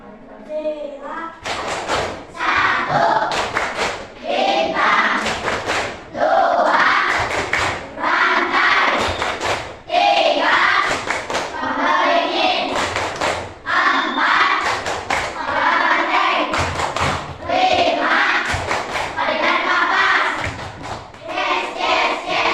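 A group, including children's voices, claps the Tepuk Pancasila rhythm together, with bursts of sharp claps in patterned sets alternating with chanted voices, loud and close throughout.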